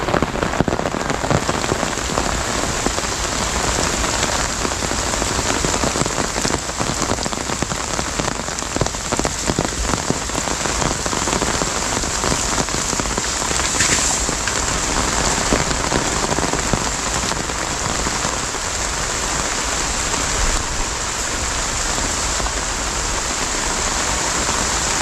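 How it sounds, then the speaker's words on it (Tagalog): Heavy rain pounds steadily on surfaces at a farm, a dense, continuous hiss of drops close by that holds even for the whole stretch without voices. "sobrang lakas ng ulan"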